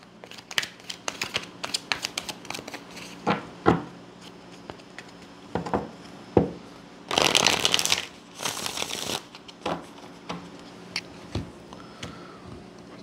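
Tarot cards being shuffled: scattered soft taps and flicks, then two dense riffling bursts in the middle, with quieter handling sounds around them; no speech.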